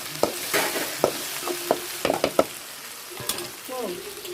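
Chicken curry fries in a pan over a wood-fired stove, with a constant hiss and sharp irregular knocks and scrapes of a stirring spoon against the pan, close and moderately loud.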